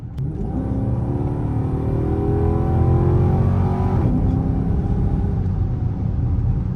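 Dodge Charger driving straight on a road after a lower control arm replacement, heard from inside as a steady loud engine and road rumble with a rising whine of acceleration, no voices.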